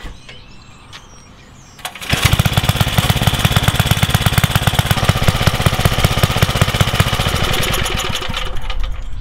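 A 1978 Troy-Bilt tiller engine that had sat unused for years catches after about two seconds of quiet, then runs steadily with a loud, fast, even chugging that carries on to the end with no talk over it.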